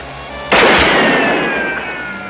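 A single loud gunshot from a western film set, an abrupt blast at about half a second with a long ringing, echoing decay trailing off behind it.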